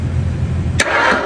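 The engine of a 1968 Ford Mustang is cranked over by the starter, a low, rough churning that lasts under a second before a sharp clunk, followed by a brighter whirring spin, loud and close.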